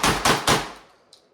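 A Panzer Arms Turknelli shotgun fires three loud, close blasts in quick succession during a high-round-count test, each boom ringing out and decaying, with a faint metallic clink at the end.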